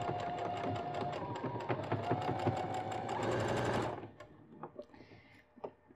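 A domestic sewing machine fitted with a zipper foot sews along a zipper in a steady rapid stitching run, then stops abruptly, leaving a few faint clicks and handling noises.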